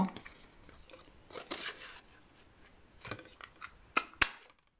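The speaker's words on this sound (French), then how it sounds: "je vais venir découper une petite libellule" Scissors cut out a small paper dragonfly in a quiet room, giving soft repeated snips and paper rustles that end in two sharper, louder cuts near the finish.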